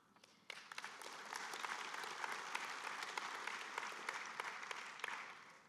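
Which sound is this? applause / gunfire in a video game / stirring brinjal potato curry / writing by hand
applause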